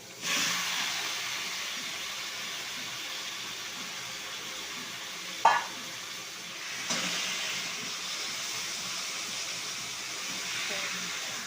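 Chicken meat fries in oil for a potato curry, giving a loud, steady hiss of sizzling with one sharp metallic clank midway and a brief swell afterward.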